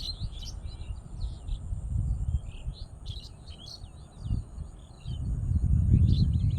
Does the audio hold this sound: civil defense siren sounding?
no